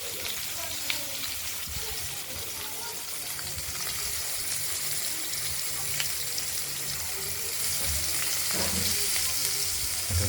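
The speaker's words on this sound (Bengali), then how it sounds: "মাছ দুটোকে আমরা ভেজে নেব।" Pieces of catla fish fry in hot oil with a continuous bright, even sizzle that holds steady and grows slightly louder, with a few soft clinks and a voice speaking faintly underneath.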